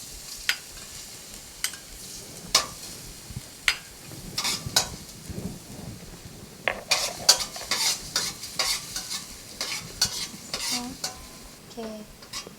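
Garlic frying in oil in a hot wok, a steady sizzle broken by irregular scraping and clinking of a spatula against the metal, close and with no voices.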